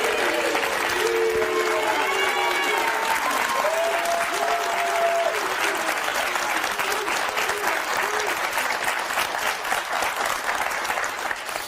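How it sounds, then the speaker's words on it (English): Loud, sustained applause from a crowd of about 200 people fills the whole stretch, with whoops and cheering voices rising over the clapping. "You got 200 people applauding you right now."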